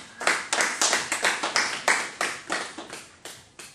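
A church congregation at a French-language worship service claps in a steady, rhythmic unison beat, with sharp, evenly spaced claps filling the whole stretch at a fairly close, lively level.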